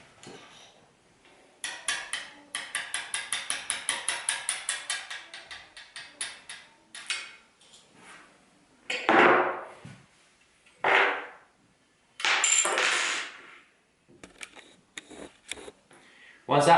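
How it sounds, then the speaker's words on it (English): A quick series of regular mechanical ticks and taps, followed by several louder, separate metallic strikes of a hammer on a punch driving out a pump's dowel pin, spaced apart, with faint talk in between. "with a hammer and a punch, I'm going to remove this dowel pin."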